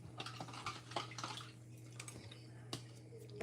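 A psyllium husk drink mixture being stirred quickly in a cup, soft rapid clinks and liquid swishing at low volume with a faint steady hum underneath.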